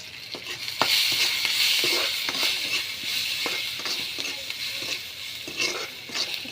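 Ginger, garlic and turmeric frying in a pan, a bright sizzle with repeated spatula scrapes and knocks against the metal, close and steady.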